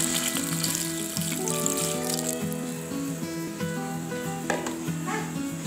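Second-press coconut milk pours steadily into a pot of potatoes and onions for a Kerala-style vegetable stew, a soft continuous liquid rush under louder background music.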